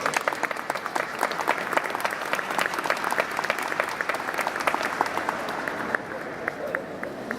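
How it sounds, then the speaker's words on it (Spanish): A book fair audience at the Santa Fe Feria del Libro claps to welcome the writer Juan Sasturain, a loud, dense ovation that stays steady and then thins toward the end, with some crowd murmur underneath. "lo vamos a recibir a Juan Sasturain con un fuerte aplauso"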